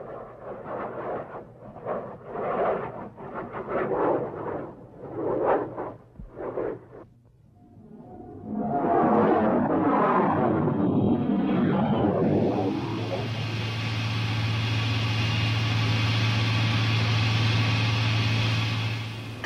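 Two powerful jet engines with afterburners on a fully loaded F-110 fighter taking off from an American air base, a loud steady roar building in and holding, preceded by rhythmic mechanical pulses and a rumbling surge.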